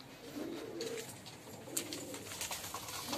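Pet pigeons in a cage coo in soft, repeated low murmurs, close by, under a steady broad background hiss with no talking.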